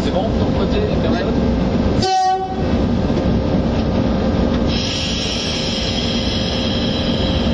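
BB 16506 electric locomotive departing on a track at Dourges, a steady loud rumble of rail running with a brief mechanical interruption and a high tonal whine rising near the end, while people speak nearby.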